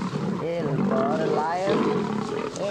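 A lion roars in a children's alphabet phonics song, the big cat's growling roar layered over a sung melody and music, loud and steady across the short stretch.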